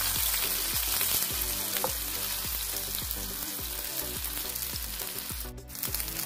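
Fish pieces fry on a hot tawa, giving a close, continuous crackling sizzle that stays steady, with a brief flurry of turning noise near the end and no talking.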